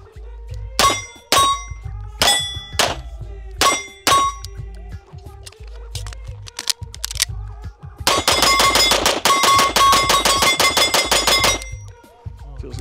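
Pistol shots from a Beretta LTT and an H&K P30L ring off steel targets: several spaced single shots with sharp metallic clangs, then a fast rapid string of hits, loud and close.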